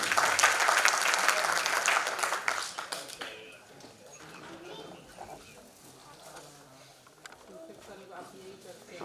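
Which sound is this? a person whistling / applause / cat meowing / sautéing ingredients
applause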